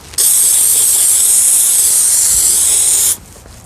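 A Harbor Freight handheld steamer releases a loud, steady hiss of steam that starts abruptly, holds evenly for about three seconds and then cuts off, with no voices.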